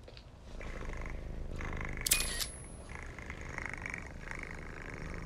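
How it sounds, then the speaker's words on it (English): A low, steady purring rumble runs throughout, with a brief sharp high squeak partway through. "You're purring."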